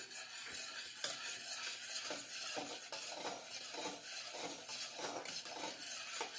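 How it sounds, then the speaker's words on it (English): A utensil stirs candied salted caramel in a pan over medium heat, giving soft repeated scraping strokes in a steady rhythm over a faint bubbling sizzle. "Okay, I'm going to keep on stirring this."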